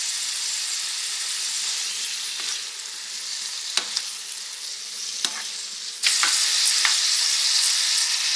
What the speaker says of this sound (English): I'm going to add my smoked sausage in with my peppers and onions, and I'm going to let that be cooking up also.